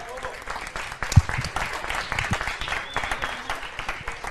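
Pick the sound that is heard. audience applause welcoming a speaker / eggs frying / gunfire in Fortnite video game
audience applause welcoming a speaker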